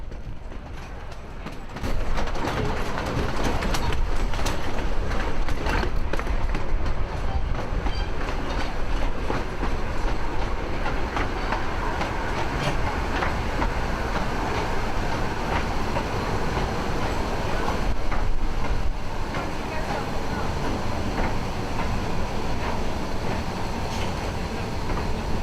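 North Bay Miniature Railway train pulling into Scalby Mills station at Scarborough, a steady close rumble with rhythmic clickety-clack of wheels over rail joints and faint squeals, running continuously with no talk.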